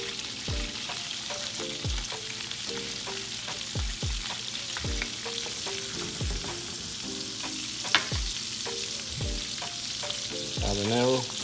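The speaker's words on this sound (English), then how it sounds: "So now I'm gonna put the garlic" Garlic sizzles in butter in a pan over medium heat, a steady close frying hiss broken by several quick stir scrapes and clinks, with background music playing throughout.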